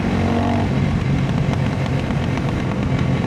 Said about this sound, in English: She started popping now, which is a sign that it's getting a bit more on the lean side on idle.